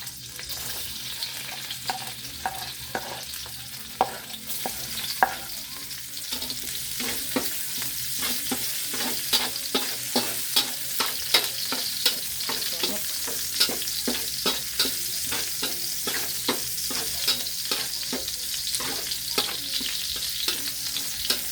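Food frying in cooking oil in a pan, with a steady bright sizzle and a regular scraping rhythm of stirring throughout, close and continuous with no talking.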